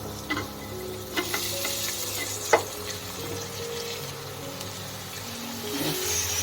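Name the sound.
vegetables frying and being stirred in pan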